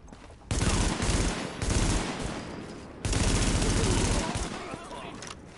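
Rapid bursts of automatic gunfire in The Division video game, loud and close, coming in several sustained volleys separated by brief pauses.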